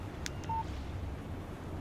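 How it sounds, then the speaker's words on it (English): A short electronic text-message alert chimes from a phone in Alan Wake Remastered, a couple of quick bright tones followed by a brief steady beep over a low, constant background rumble. "Text message from Barry."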